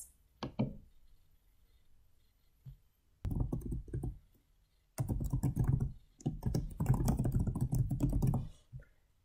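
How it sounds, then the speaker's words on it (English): Someone types an email address on a computer keyboard: soft, quick key clicks come in two clusters with a quiet gap between them, close to the listener. "And then I'm going to type in my email address."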